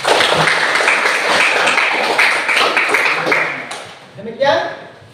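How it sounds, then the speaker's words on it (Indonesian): Classroom applause from students after a closing prayer in a teaching session, a dense burst of clapping that fills the first few seconds, then fades as voices take over. "Tepuk tangan untuk kita semua"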